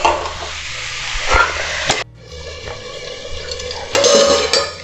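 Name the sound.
stir-frying pumpkin curry with spices in pan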